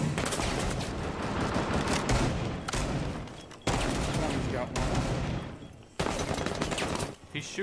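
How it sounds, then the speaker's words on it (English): Dense, nearly unbroken video game gunfire rattles through a wall in rapid automatic bursts, loud and close, with brief pauses between volleys and a voice talking over parts of it. "Shooting at me through the wall"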